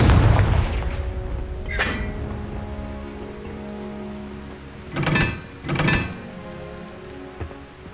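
Confringo fire-blast spell in Hogwarts Legacy on PS5, a loud booming explosion at the start, then a rumbling decay and two more heavy blasts a second apart, with crackling debris-like texture between.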